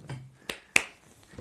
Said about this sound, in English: Clap two times.